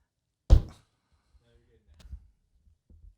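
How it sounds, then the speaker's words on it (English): A hand bangs once on a table during a podcast recording, a loud close thump, followed by faint low bumps and a second knock at the end. "When you bang the table"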